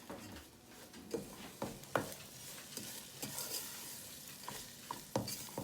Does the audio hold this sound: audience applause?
no